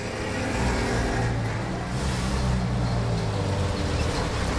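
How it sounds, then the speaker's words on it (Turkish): A car drives up along a road in a toy-play scene, its engine noise steady and moderately loud with a mid-range rumble that swells slightly, with no talk over it. "Ay, araba geliyor."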